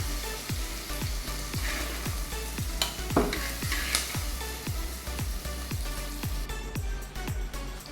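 Onions and tomatoes with cumin are sautéed in a pan, with a steady sizzle under regular, rhythmic scraping strokes of a spatula, close and fairly loud, with no talking.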